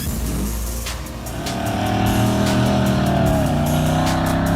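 Racing car engines roar and rev for diecast cars, a '65 Ford Galaxy 500 and a BMW M4, on a track, rising in pitch as they accelerate, loud and close, with a brief dip before climbing again.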